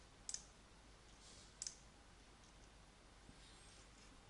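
A few sharp computer mouse clicks, roughly two paired clicks and a couple of single ones, sound close and crisp against a quiet background while spam comments are deleted in WordPress.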